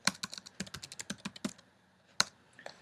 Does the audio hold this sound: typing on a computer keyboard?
yes